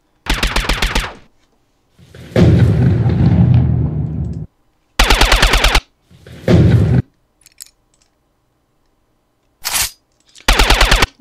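A lightning sound effect for an electricity scene: loud, harsh crackling zaps in short bursts separated by silence, with a longer rumbling electrical crackle in between, close and dry with no voices.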